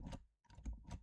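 A few computer keyboard keys pressed in quick succession for a shortcut while playing Clash of Clans on a PC, with soft clicks in two short bursts split by a brief pause, close and fairly quiet.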